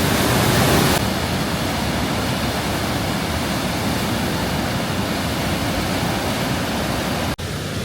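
Johnston Canyon's lower falls pour in a steady, dense, full roar that stays loud and constant, with no voices over the rushing water.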